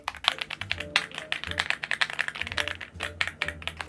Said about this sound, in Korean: 키보드 소리 한번 들어보세요.